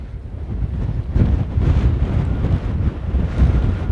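Strong gale-force wind buffets the microphone outdoors, a loud continuous low rumble with gusty surges throughout and no speech.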